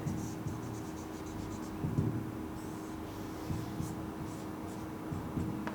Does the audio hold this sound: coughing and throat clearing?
no